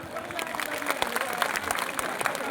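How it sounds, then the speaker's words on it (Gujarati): A community gathering claps with hands raised overhead, producing a steady patter of many hands with sharper individual claps poking through; some speech mingles faintly beneath. "બે હાથ ઊંચા રાખી તાળી પાડે ખબર પડે"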